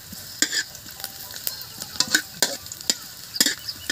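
Garlic sizzles and crackles as it fries in a pan, with sharp repeated pops and stirring scrapes close by, no talking.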